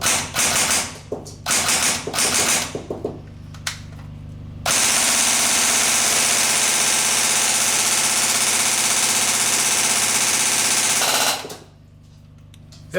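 An airsoft M4 rifle fires several short, sharp bursts, then one long, loud, continuous stream of automatic shots that runs for several seconds before cutting off abruptly as the magazine empties.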